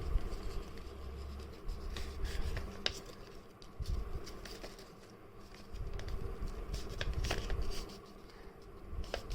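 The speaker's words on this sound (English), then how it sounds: "now you need to turn the paper on this line over here like this, and just make this crease sharp" Sheet of paper folded and creased by hand while making a paper plane glider, giving soft rustles, scraping strokes and crisp crackles in uneven bursts, close and fairly quiet.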